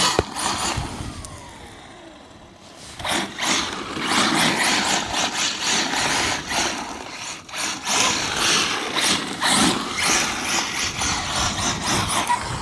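A ZD Racing EX07 1/7 scale electric RC hypercar on lithium polymer batteries is driven on a run: a thin, high electric motor whine swells and fades as it accelerates, slides and passes, close by with outdoor background noise and a brief quiet gap early on.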